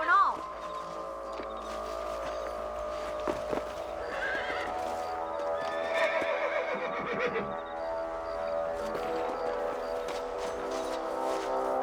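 Horses whinny and their hooves clip-clop in the Red Dead Redemption video game, a loud neigh opening a steady, busy outdoor scene with ongoing hoofbeats, background music and character voices.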